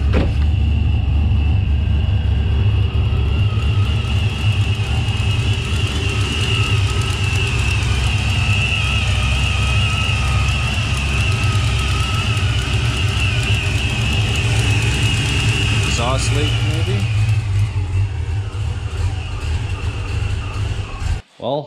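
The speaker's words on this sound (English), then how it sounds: "what seems to be a bit of an exhaust leak, maybe some tuning, maybe the car just hasn't run in a while, but it was there idling" A Ford Mustang Foxbody engine idles with a slight exhaust leak, a loud steady low rumble with a ticking, puffing texture held close for over twenty seconds before cutting off sharply at the end.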